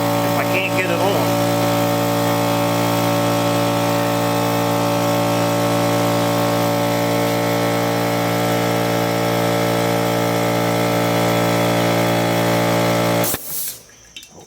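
An air compressor runs loud and steady for about thirteen seconds, a constant droning hum with a hiss over it, then stops abruptly near the end. It is used while seating a tire bead on a trailer rim.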